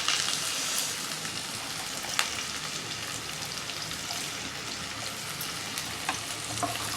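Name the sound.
garlic, ginger and onion sautéing in hot oil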